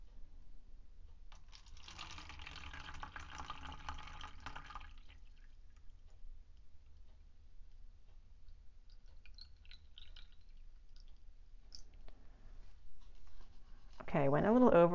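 Water poured into a cup resting on a scale while mixing a ceramic glaze, a steady splashing trickle for a couple of seconds, then quiet room tone before a voice begins at the end.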